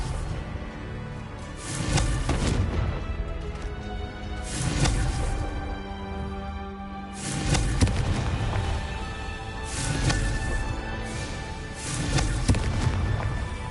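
Fire blast spells from Hogwarts Legacy burst in repeated loud crackling whooshes, each lasting a second or two, spaced a few seconds apart over a game backdrop.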